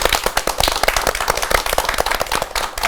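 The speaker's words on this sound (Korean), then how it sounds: "얼른 큰 박수로 한번 맞이해볼까요?" A studio audience gives a big round of applause to welcome a guest musician onto a Korean classical music talk show, dense rapid clapping sustained throughout at close range.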